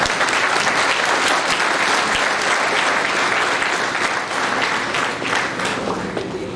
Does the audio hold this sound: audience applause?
yes